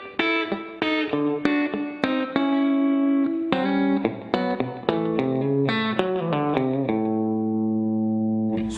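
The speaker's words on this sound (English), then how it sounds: "And to get a chicken picking sound using double stops," Electric guitar playing a twangy chicken-picking lick built on double stops, a run of sharp plucked two-note hits with some ringing sustains, clean and close with no talking.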